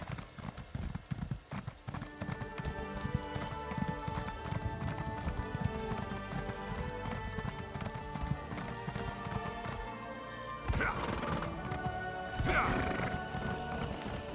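A horse ridden at pace in Elder Scrolls Online, its hooves clip-clopping in a steady rapid rhythm throughout, with tonal background music and a brief whinny-like swell near the end.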